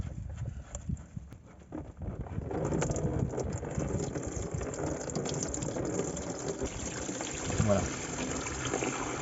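Fuel drains and splashes from the tank of an old English taxi laid up for seven years, a steady liquid pour with a rising gush, while someone speaks briefly nearby.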